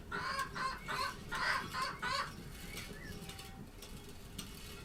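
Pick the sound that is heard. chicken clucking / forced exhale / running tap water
chicken clucking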